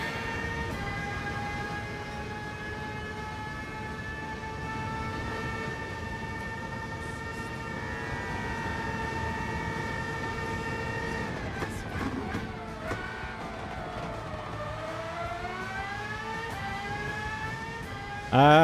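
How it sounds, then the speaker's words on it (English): A car engine revving hard in the Gran Turismo 7 video game, a loud steady high-pitched whine that climbs and dips with gear changes, sustained throughout with no talk. "Check out the revs this engine is doing."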